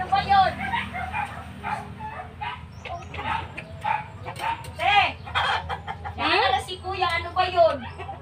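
Chickens cluck and squawk in a busy run, with a dog barking now and then and background voices.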